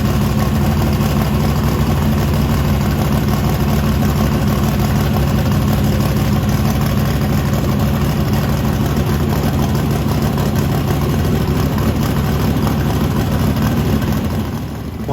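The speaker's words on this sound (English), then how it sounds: "I advanced the timing a little bit more, got it turned up to about 36 degrees, and we let the engine run and warm up" A 421 small block V8 idles steadily while warming up with the timing advanced to about 36 degrees, a loud, constant low rumble that holds even throughout with no revs or voices.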